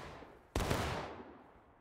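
A single sharp gunshot rings out in War of Rights, a Civil War era video game. It is close and loud, with a short echoing tail that fades over about a second.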